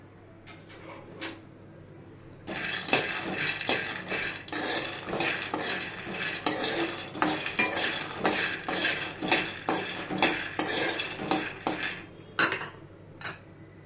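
Peanuts roast in a kadai while a spoon stirs them continuously, close rapid metallic scraping and clinking in an irregular rhythm after a few quiet seconds.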